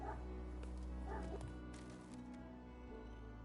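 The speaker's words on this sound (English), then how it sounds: "Dogs barking at the TV again." Dogs bark indoors at a television while video game audio from Horizon Forbidden West plays, a short bark-like burst rising over a steady background hum before fading into the continuing game sound.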